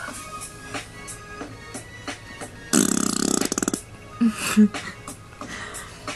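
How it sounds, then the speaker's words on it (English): A loud, sputtering fart sound effect, a rapid buzzing flutter of about a second, stands out during a story being narrated aloud, with short grunts after it. "she let out the most vulgarly imaginable fart ever thought of"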